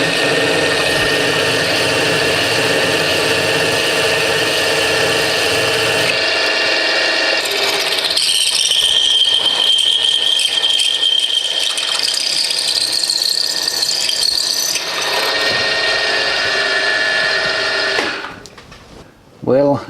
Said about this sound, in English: then one by one we will drill and cut the M7 holes, the M7 threads for the fastening screws